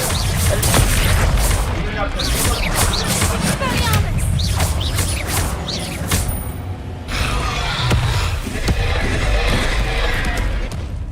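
Incendio fire spell blasts in a wizarding video game, heavy booms and crackling impacts amid busy combat noise, with a voice speaking over the action.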